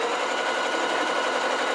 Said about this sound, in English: So I'm going to sew all the way around like this.